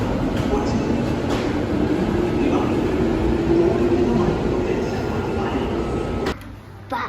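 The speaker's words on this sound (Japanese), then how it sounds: "2番線に東駅止まりの電車が参ります。" A train pulls into a station platform with a loud, steady, rumbling roar that fills the clip, while a voice is faintly audible. The noise drops away near the end.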